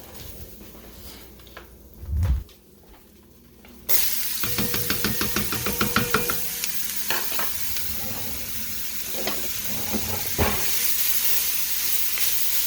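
A large batch of homemade spaghetti sauce cooking in a pot: quiet at first, then a loud, steady sizzle starts partway through, with repeated scraping stir strokes on top. No one speaks.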